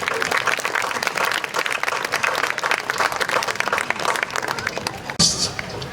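Audience at a concert breaking into loud, sustained applause, dense clapping with a few cheers, ending with a sudden louder burst near the close.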